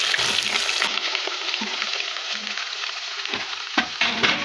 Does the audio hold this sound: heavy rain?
no